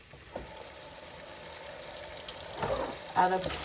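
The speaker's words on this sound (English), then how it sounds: "now I'm about to wash these greens right here" Water runs from a kitchen tap into a sink as freshly picked collard greens are washed, a steady close hiss with splashing and a brief slosh of moving leaves near the end.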